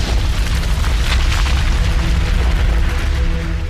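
Deep, continuous roaring rumble of a volcanic eruption at Vesuvius near Naples, a heavy booming wall of sound that stays loud and steady throughout with no voices.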